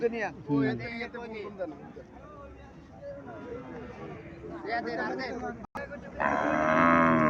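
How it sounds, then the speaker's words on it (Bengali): At a cattle fair in Mirshanni, Cumilla, with Haryana-breed cows for sale, someone talks over crowd chatter, and a loud cow moo rises near the end. "এখানে একটা গাভি দেখা যাচ্ছে।"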